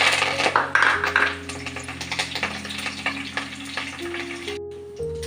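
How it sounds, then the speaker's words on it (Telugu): Tempering spices for mushroom curry sizzle and crackle in hot oil up close, with a few metallic clinks of stirring, while soft background music plays underneath. "తాలింపు వేస్తాం"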